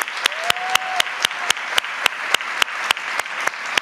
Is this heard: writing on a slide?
no